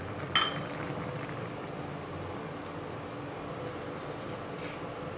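Bengali eggplant and pabda fish curry with green chillies and coriander leaves simmers in a pan, giving a steady, low bubbling hiss with a single faint clink near the start.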